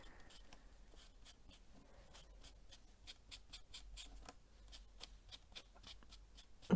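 Gilding flakes on a card are gently burnished by hand, making faint, soft rubbing and scratching strokes in an irregular rhythm, close and quiet.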